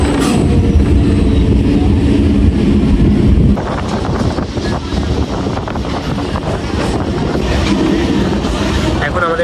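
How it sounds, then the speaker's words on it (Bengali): A suburban passenger train rolls into Dum Dum Cantonment station, a loud, close rumble of wheels and carriages with wind buffeting, the noise easing slightly partway through as the train slows. "এখন আমাদের ট্রেন ঢুকছে দমদম ক্যান্টনমেন্ট স্টেশনে।"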